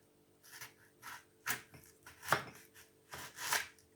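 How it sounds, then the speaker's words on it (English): A knife slices an onion in half lengthwise through the root for a kids' frittata, giving a string of close, crisp cutting strokes at an uneven rhythm, with short pauses between them. "you're going to slice it in half long ways going through the root"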